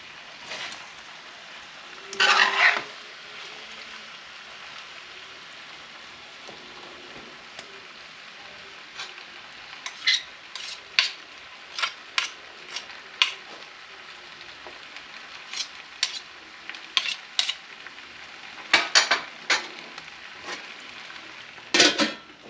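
Ground pork for a Filipino tortang giniling omelette sizzles steadily in oil in a pan, broken by frequent metallic scrapes and clinks of a utensil stirring, with a few louder clatters along the way.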